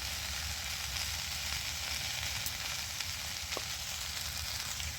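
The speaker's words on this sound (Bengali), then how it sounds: "এটা দিয়ে আমি ভালো করে এবার কষিয়ে নেব" Red amaranth stems sautéing with turmeric in a pan, a faint steady sizzle and hiss throughout with a few light clicks, quiet and without talk.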